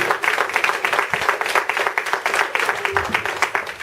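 An audience at a church talent show applauds after a children's Christmas tree decorating act, with dense, steady clapping throughout and a few voices mixed in beneath.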